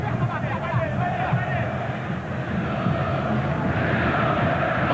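Corinthians supporters in a stadium during a 2005 Brazilian league match against Internacional, a broad continuous roar of crowd noise with a commentator speaking over it the whole time.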